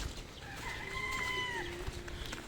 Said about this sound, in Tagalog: papakita ko pa sa inyo yung mga alaga nilang manok